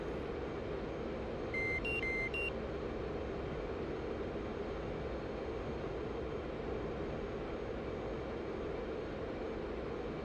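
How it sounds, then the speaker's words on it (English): F/A-18 Hornet jet with afterburner lit in the DCS flight game, a steady loud roar throughout with a few brief cockpit beeps early on. "We are keeping that afterburner going to try and build some energy."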